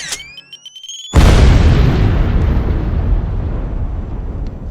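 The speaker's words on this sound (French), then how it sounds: "Les deux extrémités du pont furent pulvérisées par des explosions coordonnées" A massive coordinated explosion erupts after a moment of quiet tones, blasting both ends of a bridge into a loud, sustained roar of debris and rumble that slowly fades.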